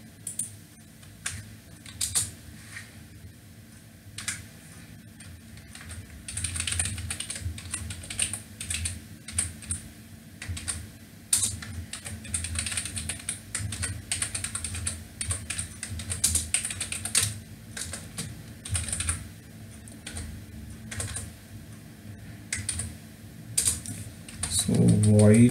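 Steady, continuous typing on a computer keyboard while a C program is written, with rapid clattering keystrokes running in uneven flurries and brief pauses throughout.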